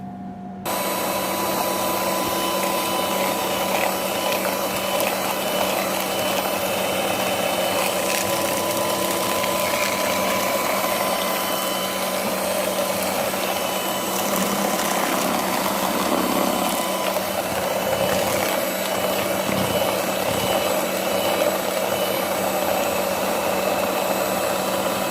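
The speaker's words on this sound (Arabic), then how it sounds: "راح ابدي اخلط الصفار." An electric hand mixer beats egg yolks for a sponge cake, a steady, unbroken motor whir that runs loud and close almost the whole time after a brief quiet start.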